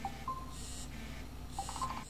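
Incoming-call alert on a Redmi Watch 3 smartwatch: short, thin electronic beeps recur in two brief bursts over a quiet background, fairly soft and close.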